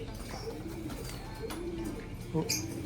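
Racing pigeons cooing inside a cage, soft repeated coos close by, with voices talking over them.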